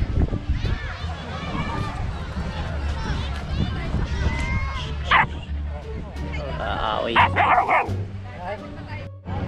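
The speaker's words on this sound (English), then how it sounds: "Dog." A dog barks and yips repeatedly near a beach, with short excited bursts and a few whimpers over steady background rumble, while people talk throughout.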